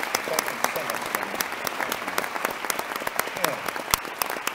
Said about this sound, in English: please clap up for Kenny.